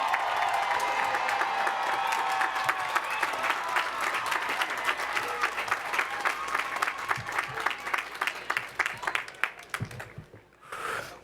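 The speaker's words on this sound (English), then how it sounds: "let's give a resounding applause for our valedictorian, Mr. Parra." Sustained audience applause at a university commencement ceremony for the valedictorian, a dense wash of many hands clapping that continues steadily, then thins into scattered claps before fading near the end.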